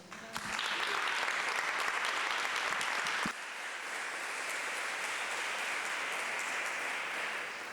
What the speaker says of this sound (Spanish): Un fuerte aplauso para todas las panelistas.